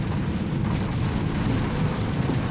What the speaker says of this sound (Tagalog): Kasalsagan ng ulan.